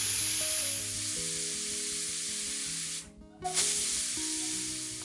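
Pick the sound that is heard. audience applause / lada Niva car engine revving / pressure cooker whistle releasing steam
pressure cooker whistle releasing steam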